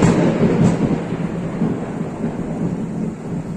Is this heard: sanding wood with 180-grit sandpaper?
no